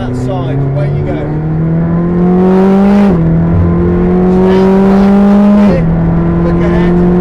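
A McLaren 620R driven on the Silverstone circuit: a loud, close engine holding a high whine that climbs steadily, drops sharply at two gear changes and climbs again, with wind and road roar underneath.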